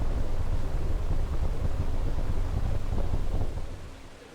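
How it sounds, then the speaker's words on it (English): Saturn IB rocket stage engines roar in a static test firing, gimbaled while burning. The sound is a dense, steady, rumbling roar that stays loud throughout and fades off toward the end. "Engine control was tested by gimbaling the engines during firing."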